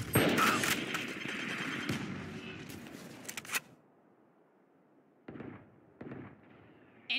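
A grenade blast and gunfire in the video game Valorant: a loud burst with rattling shots for about three seconds, then near silence broken by two brief, quieter bangs and a final shot.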